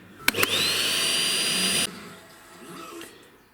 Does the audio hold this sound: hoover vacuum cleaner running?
yes